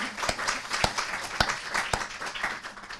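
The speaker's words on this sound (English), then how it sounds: "if you could just give the panel a round of applause" An audience applauds a panel at a humanitarian feedback event with a brief, fairly sparse round of clapping, individual claps standing out in an irregular rhythm.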